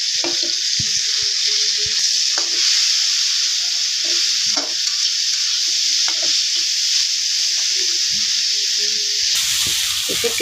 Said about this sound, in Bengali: শুটকিটি ভালো দিকে ভাজা নিতেছে পেঁয়াজের সাথে